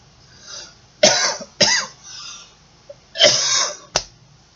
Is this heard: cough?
yes